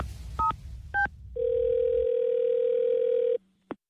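Telephone line sounds for a radio prank call: two short dialing beeps, then a steady dial tone holding for about two seconds before cutting off, followed by a brief final blip.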